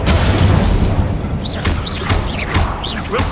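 A fire spell blasts in the Hogwarts Legacy video game: loud, booming, crashing bursts that recur several times, with bright chirping accents between them. No talking is heard.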